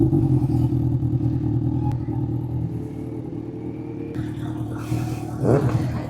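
A superbike engine drones steadily at close range as the rider pulls away, with a low rumbling idle building into a louder surge near the end.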